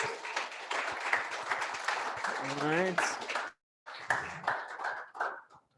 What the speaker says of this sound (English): Let's give Brad a round of applause.